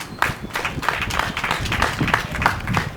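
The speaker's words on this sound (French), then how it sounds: "je voudrais que vous acclamiez l'école de PP Publicité et les PP Aïbatel 2 aussi" Audience clapping together for the schools at a children's English certificate ceremony, a steady dense patter of many hands kept up throughout at moderate loudness.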